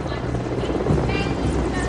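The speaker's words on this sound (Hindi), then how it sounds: "इधर आकाश में दो Mi-17 हेलीकॉप्टर्स आकाश से पुष्प वर्षा करते हुए" Two Mi-17 helicopters pass overhead scattering marigold and rose petals during an Independence Day flag hoisting at the Red Fort, a loud continuous rotor drone filling the scene with background voices mixed in.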